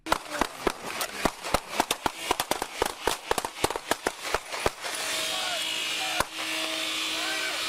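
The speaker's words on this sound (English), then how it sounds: "On this, I also counted 27 shots." Rapid volley of gunshots from a police traffic stop, dozens of loud sharp cracks fired in quick irregular bursts for about five seconds, then a steady hiss with one final isolated shot.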